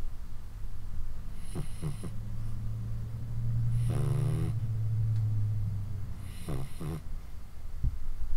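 A sleeping person snores right beside the microphone, three long, loud, rasping breaths spaced a couple of seconds apart, with a low drone between them and no talking.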